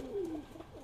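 A Giribaz high-flying pigeon gives a single low, drawn-out coo that slides downward, close and fairly clear against a quiet background.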